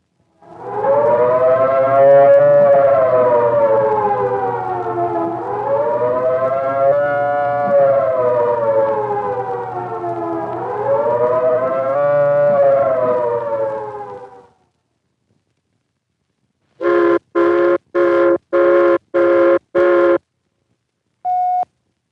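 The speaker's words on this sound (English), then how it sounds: "The second signal is the take cover signal, a 3-minute warbling tone or series of short blasts like this" A loud civil defense siren wails the take-cover signal with a slow rising and falling warble for several cycles, then stops; after silence, a series of short, evenly spaced blasts follows.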